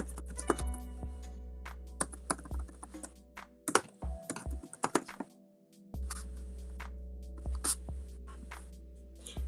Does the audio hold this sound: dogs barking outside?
no